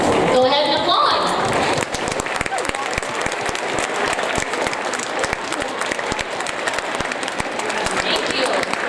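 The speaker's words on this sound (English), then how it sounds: "Go ahead and applaud." Sustained, loud applause from an audience at a Veterans Day gathering fills the whole stretch, dense and steady, as family members of armed forces service members stand to be recognized.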